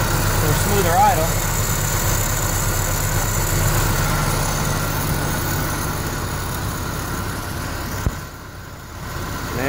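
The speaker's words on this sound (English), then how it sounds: "You can already see it's opened up a little bit more to let more air in for a smoother idle." A car engine fitted with a Weber 32/36 carburettor runs at a steady fast idle up close, a constant loud rumble with someone talking over it and a brief click near the end.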